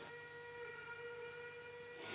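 A steam train whistle sounds a long, steady, faint tone as the locomotive approaches a frontier station in a 1950 Western, with no talking.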